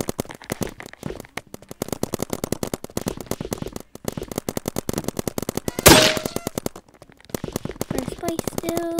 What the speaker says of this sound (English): Gunfire. It's a more expensive gun too.